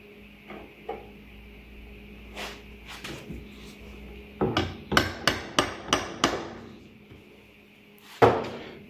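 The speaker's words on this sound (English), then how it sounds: "I need to put a little starter hole with this punch." A hammer strikes a metal punch to make a starter hole for a drill bit on a fence gate build: a few spaced taps, then a quick run of six sharp, ringing blows close by, followed by one final hit.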